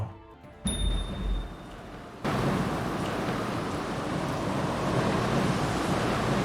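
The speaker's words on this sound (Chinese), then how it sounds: "肆虐的狂风席卷着帝国，暴风雨呼啸而至" Raging storm wind sweeps through the video game My Lovely Queen, a steady, loud broadband roar swelling in after a brief quieter opening and holding strong to the end, with a surf-like rushing texture.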